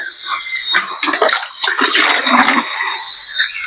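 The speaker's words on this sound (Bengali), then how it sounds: "এটাকে ভর্তি করে জল দিতে হবে" Water is poured from a container into a plant pot, a steady close splashing and trickling that runs continuously for several seconds.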